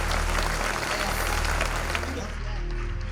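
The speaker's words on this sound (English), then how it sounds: "I think you should clap for yourselves." A youth audience at a reality TV show event claps briefly, a loud dense burst of applause that thins out after a couple of seconds.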